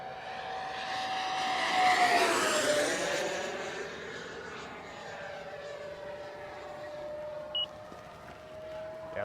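An Xfly T-7A EDF RC jet makes a high-speed pass: a steady ducted-fan whine swells as it approaches, peaks loud, then falls in pitch and fades as it draws away, with a brief faint tone near the end.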